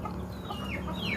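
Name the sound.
chicken clucking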